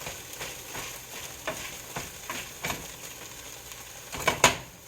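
Hash browns frying and being stirred in a pan for a Waffle House style breakfast, a steady sizzle broken by repeated scraping strokes and a louder crackling burst near the end.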